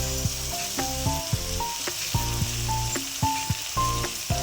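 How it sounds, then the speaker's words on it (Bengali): Soybean chunks frying in hot oil with salt and turmeric, a constant sizzle under a tonal melody that plays throughout, with a few soft stir knocks; no talking. "তেল গরম হয়ে গেছে, এবার সয়াবিনগুলোকে ভেজে নিচ্ছি অল্প পরিমাণ করে নুন আর হলুদ দিয়ে"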